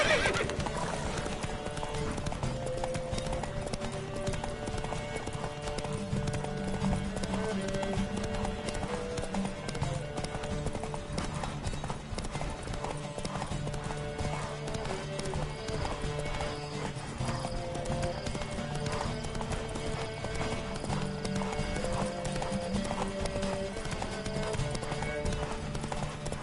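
Horses gallop at a steady clip-clop with repeated neighs and whinnies during a race in The Witcher 3, continuous and loud with music-like tones underneath and no speech.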